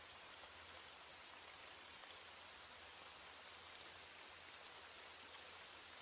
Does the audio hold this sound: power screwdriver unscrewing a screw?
no